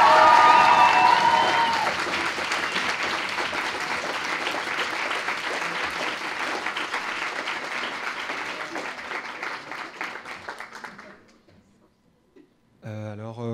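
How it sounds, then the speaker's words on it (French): A contest-final audience at an eloquence competition applauds a winner with sustained, dense clapping that gradually fades out near the end before a voice begins. "je vous demande d'applaudir et d'accueillir Émile Séguès."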